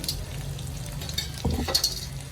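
Finely chopped coconut roasting in a pan for a horse gram stir-fry, close crackling sizzle with a couple of sharper stirring scrapes near the middle.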